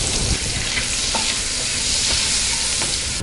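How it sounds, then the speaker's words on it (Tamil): Whole spices (cardamom, cinnamon, marathi moggu, cloves and a bay leaf) sizzle steadily in butter and oil in a kadai, a loud, continuous crackling hiss with no voices. "இப்போ தாளிச்சிக்கலாம்."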